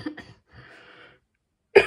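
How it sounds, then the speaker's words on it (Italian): Someone coughs a few times up close after too much perfume. Short harsh bursts come first, then a softer throat-clearing rasp, then a quiet pause and one more sharp cough at the end. "tossisco già per il profumo"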